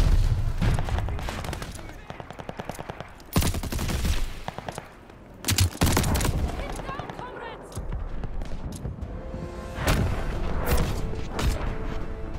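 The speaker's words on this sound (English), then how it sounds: "Stun grenade." A stun grenade going off in the video game Call of Duty Vanguard, sharp loud bursts amid rattling gunfire, with a voice speaking over the combat.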